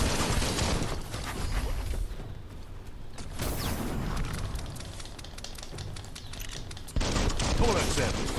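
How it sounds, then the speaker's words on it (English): Gunfire in the video game Biomutant: dense, continuous bursts of shots and impacts crackling in rapid succession, loud and close, easing briefly mid-clip before surging again near the end. "Bullets everywhere."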